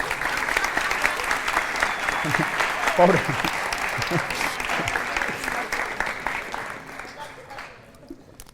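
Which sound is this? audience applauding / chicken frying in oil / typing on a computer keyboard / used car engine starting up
audience applauding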